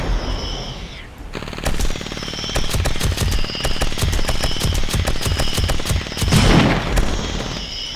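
Rapid automatic gunfire in the video game 7 Days to Die, a long loud burst of closely spaced shots after a brief pause, ending in a heavier blast near the end.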